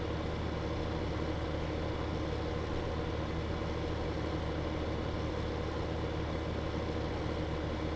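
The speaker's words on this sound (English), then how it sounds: "I really like this little 595. It's a pretty cool little, like, half-size tractor." Small 595 half-size tractor engine idling in Farming Simulator 15, a steady low droning rumble, even and unbroken throughout, fairly quiet and alone.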